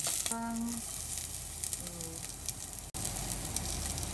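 Chopped onions frying in hot cooking oil in a home kitchen, giving a steady, dense sizzle that runs almost unbroken from start to end, with a few brief tonal sounds and a short dropout near the end.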